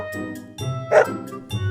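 Cartoon stray dogs in an Iraqi comedy bark in short, loud, close bursts, several yaps spaced across a brief moment with no talk over them.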